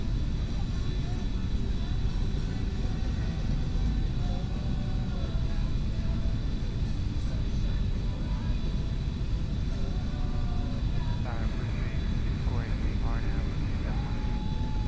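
A Toliss A319 airliner in a flight simulator rolls for takeoff on runway 27 left, its engines giving a steady, loud roar throughout while radio voices talk over it.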